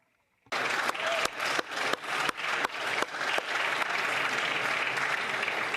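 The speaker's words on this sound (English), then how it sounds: "let us offer the Haitian community all our respect and applause" Applause in the House of Commons, a sudden burst of sustained clapping from many members that begins abruptly after a short silence and continues loudly to the end, with no speech over it.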